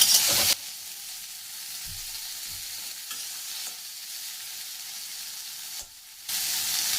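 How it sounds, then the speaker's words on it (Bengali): Vegetables frying with salt in a pan, giving a steady loud sizzle with stirring scrapes throughout, briefly dropping away near the end before the hiss returns. "অল্প একটু নুন দেবো, দিয়ে ভেজে দেবো।"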